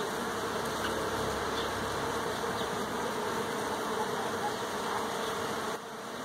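Mandaçaia stingless bees swarm around a wooden hive box, their buzzing a faint, steady drone with some hum beneath it that continues for several seconds and then thins out near the end.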